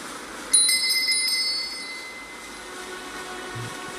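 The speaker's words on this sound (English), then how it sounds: "they will all come towards that bell that just rang" A bell in the Elden Ring game rings once with a bright metallic strike, its ringing tone lingering and slowly fading over a low steady ambient background.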